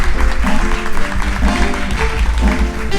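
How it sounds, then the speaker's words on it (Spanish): An audience claps loudly in a church service to welcome a guest pastor, a dense wash of clapping with a low murmur of voices and music underneath. "Recibámoslo con un fuerte aplauso"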